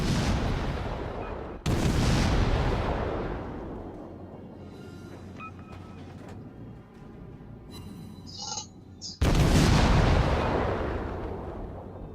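Heavy warship cannon blasts in a video game boom at the start and near the end, with rumbling and mechanical clatter between the shots.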